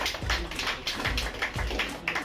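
Brief burst of close, steady clapping from an indoor audience of LIC SC/ST Buddhist employees applauding Meena ji, with a few heavier thudding claps standing out in the even patter.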